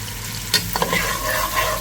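Onions frying in hot oil for Kuwaiti mutton machboos, a steady close sizzle with a few sharp stirring scrapes and clinks near the start, no talking.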